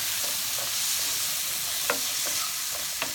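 Garbanzo beans and onion fry in a pan for chana masala, a steady close sizzle with a few sharp utensil taps and scrapes as they are stirred, no voices.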